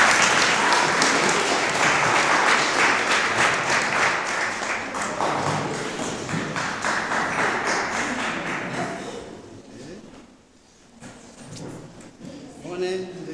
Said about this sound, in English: Let's all stand and give Patrick Lekgoro a clap as he comes forward